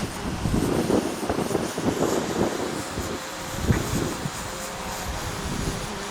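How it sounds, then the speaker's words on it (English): Strong wind buffeting during a DJI Mavic Pro drone flight test, continuous gusty roar and rumble against the microphone with faint mechanical hum, no voices. "now the wind is picking up again"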